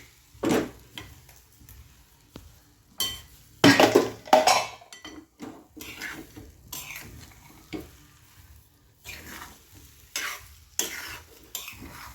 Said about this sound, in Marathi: साखर घातल्यानंतर मस्तपैकी साखर वितळेपर्यंत परतून घ्यायचं आहे